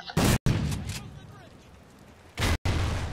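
Fireworks going off in a modded video game lobby: a couple of sharp loud bursts with crackling tails, with a voice speaking briefly between them.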